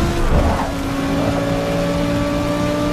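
A Lamborghini in Forza Motorsport 6 powers out of a corner, its engine drone steady and loud with sustained harmonic tones, a short surge near the start then a held, even roar throughout.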